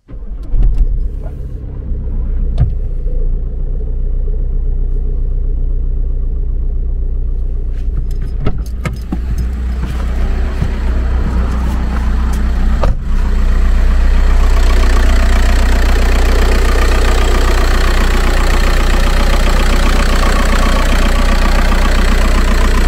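A cold car engine idles steadily with a low rumble, a few clicks and clatters early on, then the running gets slightly louder and fuller.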